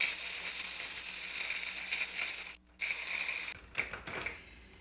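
Dried sourdough starter is ground into powder in a small grinder, a rough mechanical whirring and crunching that runs steadily, cuts out briefly, then resumes in short uneven bursts.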